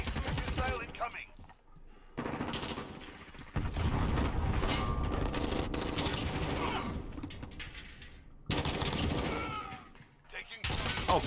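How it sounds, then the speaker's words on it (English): Enemy missile strike in a Modern Warfare match, heard as a dense, loud wash of gunfire and explosive booms that runs almost continuously, with brief drops, under a voice talking. "Enemy missile incoming."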